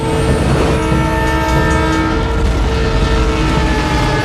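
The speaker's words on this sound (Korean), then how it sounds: "지리는 타이밍에 기차도 다가오기 시작하죠" A train approaches with its horn blaring in a Fast and Furious film scene, a loud, steady rumble and sustained horn tones filling the whole stretch without pause.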